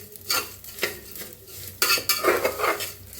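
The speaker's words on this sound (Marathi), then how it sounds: "तर शेवाळ्या चांगल्या तुपात भाजून घ्यायच्या." Vermicelli roasting in ghee in a pot for kheer is stirred with a metal spoon, giving repeated close scrapes and clinks against the pan over a faint sizzle.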